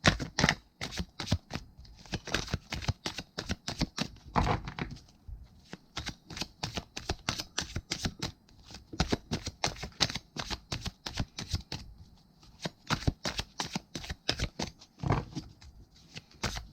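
Tarot cards being shuffled by hand in a quiet room, a long run of crisp riffling bursts and soft slaps repeating in an irregular rhythm, close and clear with no talking.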